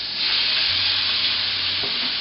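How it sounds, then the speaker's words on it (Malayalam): Marinated chicken pieces fry in a little oil for butter chicken, making a loud, continuous sizzle that swells early on, with a brief clatter of stirring near the end. "5-6 മിനിറ്റ് ജസ്റ്റ് ഒന്ന് ഫ്രൈ ചെയ്തെടുക്കാം."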